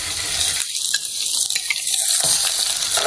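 Spices spluttering and sizzling in hot oil on a low flame while preparing goat leg soup, a steady close frying hiss with crackles throughout, no talking.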